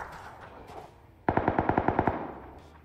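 Automatic rifle fire in PUBG Lite, a single quick burst of about ten evenly spaced shots, crisp and close, standing out over a quiet game background.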